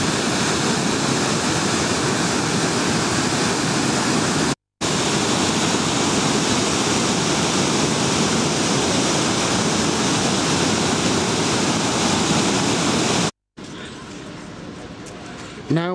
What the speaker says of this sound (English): With still heavy gushes of water coming down the River Exe.